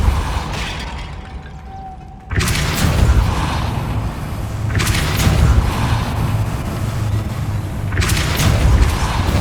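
The Depulso spell fires in Hogwarts Legacy on PS5, a sudden heavy whooshing blast after a quiet moment that leaves a loud, rumbling roar with surging bursts, close and dense.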